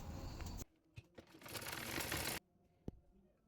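A sewing machine stitching the shoulder seam of a princess-cut blouse, with a short burst of fast whirring stitches followed by a quiet pause and a few soft clicks and handling sounds nearby.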